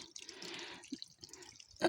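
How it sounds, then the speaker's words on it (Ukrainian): Water from a deep well pump splashes and drips while watering a garden, a soft irregular patter with a brief gush, a few distinct drops and a louder splash at the end, quiet and close. "Така глибока і качає скважини воду насос"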